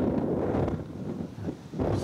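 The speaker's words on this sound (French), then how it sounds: "Donc il y a le vent, le fameux vent dont on parlait." Wind buffeting an outdoor microphone, a low rumbling gusty roar with uneven surges, steady and fairly loud, no voices.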